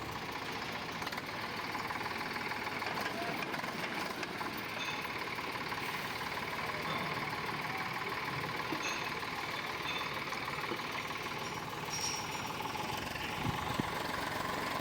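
A tractor engine labours steadily while pulling a vehicle stuck in mud, a continuous rough mid-pitched drone with knocking vibration that holds for the whole stretch, heard close and without any voices.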